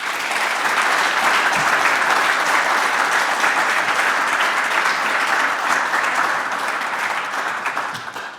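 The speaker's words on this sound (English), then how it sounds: "Give our panel a round of applause," Sustained, dense applause from a conference audience for a panel of speakers at a drone-logistics showcase event, steady and loud for the full length with no pauses and no talking over it.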